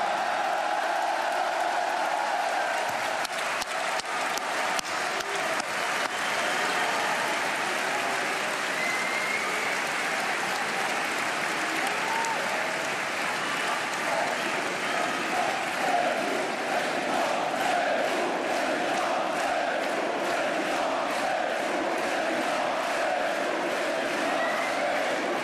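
A large audience in a packed hall at a political rally in Lille applauds steadily for about twenty-five seconds, a dense wash of clapping with crowd murmur that stays loud and even, with occasional shouts.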